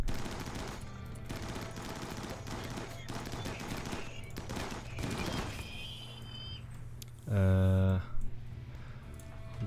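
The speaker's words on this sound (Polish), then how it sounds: "Na szczęście nie jest to potężny strzał." Rapid gunfire crackles in bursts during a RimWorld battle, with a voice talking over the shots and a louder burst near the end.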